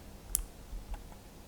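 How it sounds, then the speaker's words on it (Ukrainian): Quiet, close clicks of a computer mouse button during drafting work in Archicad, a sharp click followed by a fainter second one in an otherwise still room. "Два рази натискаю ліву кнопку миші для підтвердження."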